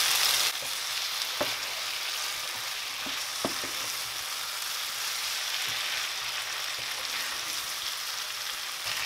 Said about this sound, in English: now I'm going to add our fried potato and chicken gizzard in here. I'm going to sprinkle dry chili. I'm going to mix everything.